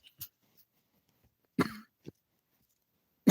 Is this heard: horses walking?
no